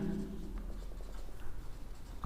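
Pen writing on paper while computing annual house value in an income tax lesson, a soft steady scratching close by with faint room noise and no talk.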